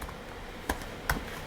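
Two separate keystrokes on a computer keyboard, spaced about half a second apart, sharp and fairly close against a quiet room hiss.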